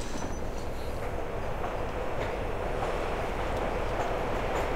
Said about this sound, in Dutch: Oké, daar zitten we dan, op de trein.